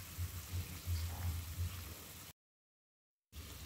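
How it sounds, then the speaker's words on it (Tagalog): Longganisa sausages boil in a pot of water with a steady, soft bubbling and low rumble. The sound cuts out completely for about a second, then the bubbling resumes. "Yan na siya guys, kulong-kulo na yan"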